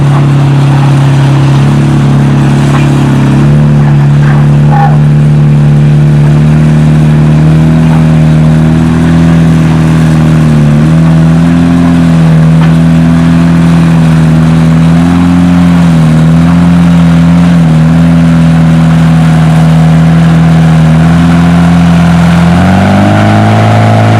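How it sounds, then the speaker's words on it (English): A Farmall 460 tractor fitted with a swapped-in Cummins engine pulls a sled at a fall tractor pull, its deep engine drone loud and steady for the whole run with wavering pitch as it labors, then rising near the end. "We got Lauren Heinrichs on his 460 Farmall with the Cummins swap."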